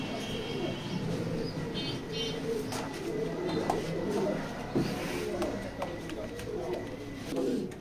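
Pigeons in a loft coo steadily in low, rolling calls, with a grizzle-coloured breeding pair among the birds, while someone talks nearby over the flock.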